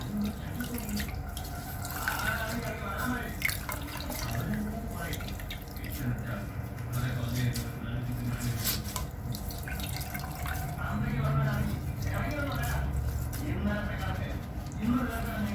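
Water trickles and drips steadily from homemade paneer tied in cloth, a continuous liquid patter close by, with someone talking over it.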